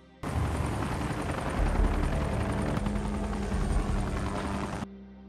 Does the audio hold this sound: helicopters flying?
yes